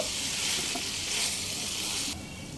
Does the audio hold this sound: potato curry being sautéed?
yes